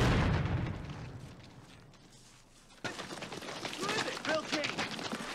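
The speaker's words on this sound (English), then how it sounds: "Now the trees are exploding." Explosions in a war series, with trees blasting apart in a forest: a loud boom that decays, then a fresh burst of crackling, popping blasts with voices or cries mixed in.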